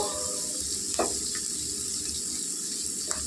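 Onions sizzle in a pan for a spinach curry, with a steady, moderate hiss and a few soft stirring scrapes.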